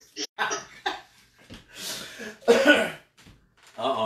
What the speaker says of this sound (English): Uh-oh, I'm coughing.